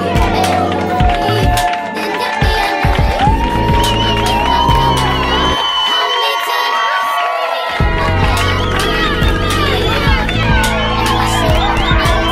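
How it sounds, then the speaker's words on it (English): A 21st birthday party crowd cheers and whoops loudly, breaking briefly near the middle before the shouting and cheering swell again, with voices calling out through the noise. "just give a round of applause for 21"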